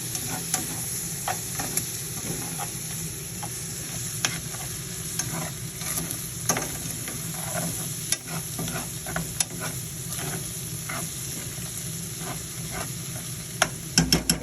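Minced garlic sizzles steadily in a hot pan for Bolognese sauce, a soft continuous frying hiss with occasional scrapes and taps of a stirring utensil, close and without talk.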